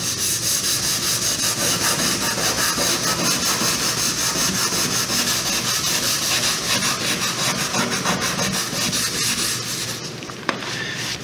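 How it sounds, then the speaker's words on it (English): Continuous close, rasping scrape of a paint scraper working leftover bits of paint off old shellacked wood, loud and steady with a few small knocks near the end. "we can use the scraper for that"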